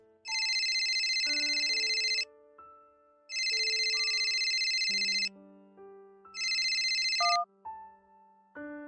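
A telephone ringtone plays in three bursts, each about two seconds long, with short pauses between them. A melodic electronic chime runs underneath, and the sound is clear and close with no voices.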